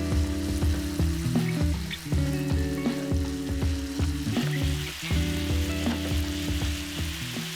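Burdock root stir-frying in a pan with soy sauce for kinpira gobo, a steady loud sizzle with repeated scraping and stirring strokes throughout, no talking.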